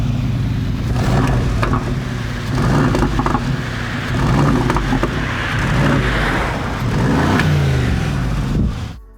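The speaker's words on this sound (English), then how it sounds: "here with the Brabus exhaust system it's even louder" A Mercedes G 500 4x4² SUV with a Brabus exhaust system revs loudly up close, its engine roaring and surging in repeated swells before cutting off abruptly at the end, with no speech over it.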